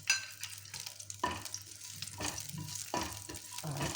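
Chopped green chillies dropped into three spoons of hot oil for sambar sizzle and crackle steadily, with a few louder bursts as they are stirred, close and continuous throughout.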